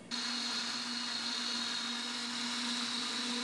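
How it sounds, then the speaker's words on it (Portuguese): An electric blender starts abruptly and runs at a steady high whine while beating a bread dough mixture with butter, loud and close, with no talking over it. "Agora vamos bater nessa misturinha."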